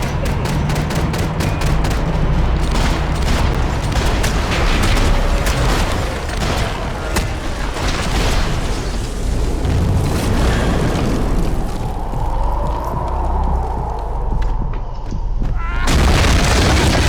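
Gunfire and explosions from the video game Max Payne 3, with booming blasts and rattling shots piling up loudly and continuously, a dense chaotic firefight under occasional shouted voices.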